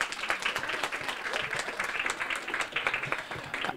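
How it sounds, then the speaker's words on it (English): An audience at a community storytelling event claps in a lively round of applause, many hands close by, continuous and bright with slight swells, and no voices standing out. "give yourself a round of applause"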